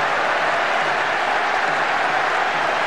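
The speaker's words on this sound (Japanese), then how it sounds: "スタジアム中が大歓声で揺れています" A World Soccer Winning Eleven 10 stadium crowd on PS2 roars in a dense, steady wash of cheering and applause, loud and continuous throughout.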